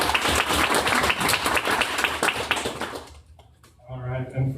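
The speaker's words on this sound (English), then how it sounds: "Let's give a round of applause for Eddie." An audience applauds a presenter named Eddie at a food and tech event in Austin, with a dense burst of clapping for about three seconds that then thins out as a voice starts speaking.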